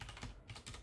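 Rapid keystrokes on a computer keyboard while writing C++ code, a quick irregular burst of clicky taps, close and moderately quiet, with no talking.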